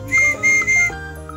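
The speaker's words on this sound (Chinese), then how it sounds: "这个上面带个哨子可以吹" A small whistle on a piece of candy is blown in three short shrill toots, close and fairly loud, with no talking.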